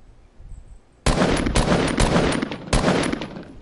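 Rapid automatic gunfire from the video game Fortnite crackles loudly in several bursts of rat-a-tat shots after a quiet opening, with brief gaps between volleys.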